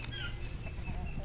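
Chickens cluck softly around their nest on a small backyard farm, a low continuous murmur of short calls close by with no talk over them.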